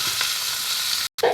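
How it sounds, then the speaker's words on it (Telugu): Onion pieces frying in hot oil with fenugreek seeds and a dried red chili, a steady close sizzle with light stirring, briefly cut off before resuming. "ఇప్పుడు కట్ చేసుకుని ఉల్లిపాయ ముక్కలు కూడా ఫ్రై చేద్దాం."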